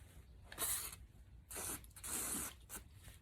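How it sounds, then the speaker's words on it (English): WD-40 sprays in three short hissing bursts onto the mass air flow sensor of a 2007 Toyota FJ Cruiser, the first brief and the last two longer, close and fairly quiet. "I'm gonna spray some WD-40 on it initially."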